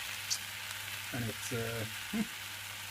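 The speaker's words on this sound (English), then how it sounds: "It's frying good" Food sizzles quietly in a Cerafit frying pan, a soft steady crackle with a few brief clanks of a utensil partway through.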